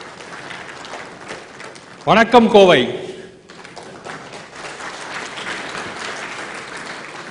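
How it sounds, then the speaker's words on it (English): Audience applause welcoming a speaker on stage at a corporate talk, a broadband clapping wash throughout, briefly covered by loud amplified speech from a man greeting the crowd in Tamil before the clapping continues under it. "Ladies and gentlemen, welcome with a huge round of applause,"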